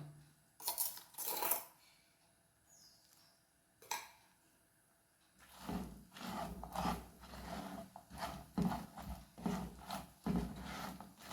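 Fried banana chips being stirred with powdered jaggery mix for sharkkara varatti, giving scraping, rattling clatter in irregular bursts, quiet at first and then busier and steadier.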